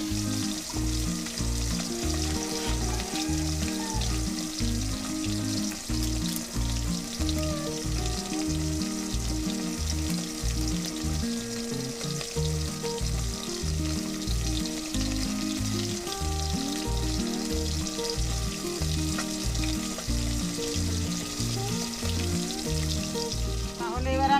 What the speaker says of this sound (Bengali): গুঁড়ো দিয়ে দিচ্ছি এগুলো সুন্দর করে লাল লাল করে ভেজে নেবো